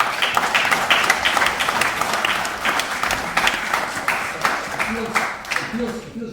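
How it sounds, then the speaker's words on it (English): A conference audience clapping, sustained applause from a hall full of people that thins toward the end as a voice begins speaking over the last claps. "It feels wrong to clap that story."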